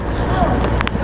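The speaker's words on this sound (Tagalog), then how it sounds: "Sa sobrang lakas ng hangin talaga." Strong typhoon wind at the Port of Lucena roars steadily and loudly against the microphone, with a dense low rumble and brief gusty bursts near the end, while voices are faintly present.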